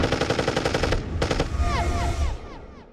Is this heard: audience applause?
no